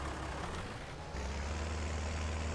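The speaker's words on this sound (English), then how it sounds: "I gotta start the tractor first" A tractor engine in Farming Simulator 19 catches and settles into a steady, loud low rumble, with a brief hiss as it fires up.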